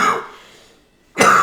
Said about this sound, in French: je vous annonce que depuis un certain temps, je tousse